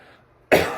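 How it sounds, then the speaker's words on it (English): After a short quiet moment, one sudden, loud, close cough bursts out. "thought I could make it through the review without coughing, but I can't"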